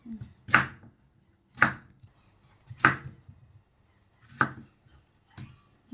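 Knife chopping eggplant, greens stems, carrot and potato on a board for a mixed vegetable curry: five sharp, evenly spaced chops about a second apart, close and clear with quiet pauses between.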